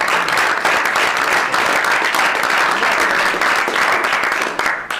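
Audience applause fills a White House cabinet meeting, a dense, steady wash of clapping from many hands that stays loud throughout and tapers slightly at the end, with no voices over it.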